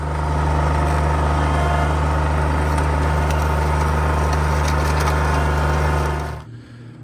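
Tractor engine running steadily at a constant idle, a loud, even low drone that holds throughout, then cuts off abruptly near the end.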